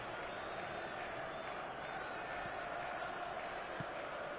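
A stadium crowd in the eFootball video game cheers and roars in a steady, dense wash of noise that holds loud and unbroken throughout.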